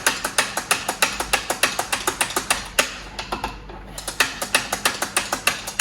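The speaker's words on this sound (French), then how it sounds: "on vient vider, pour le cas d'un moulin bar doseur, la réserve de café moulu qui est à l'intérieur" Professional bar doser coffee grinder being emptied of its ground coffee: the doser lever snaps in a quick, regular run of sharp mechanical clicks, with a short pause midway before the clicking resumes, close and loud.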